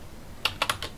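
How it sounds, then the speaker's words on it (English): Typing on a computer keyboard, four quick close key clicks in fast succession, crisp and isolated against a quiet room. "So I'll type that much of it."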